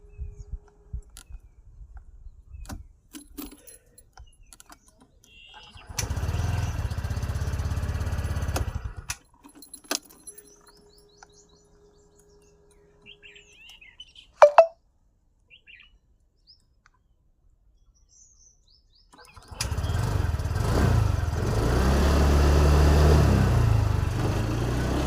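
A TVS Jupiter 110cc base-model scooter fires up with a one-button start and settles into a steady idle, nearby and fairly loud, running for a few seconds, cutting out, then starting again and idling on.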